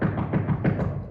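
Loud knocks on a door, meant as a wolf at the door in a children's tale of the three little pigs, come as a rapid series of heavy raps close by and with no voices.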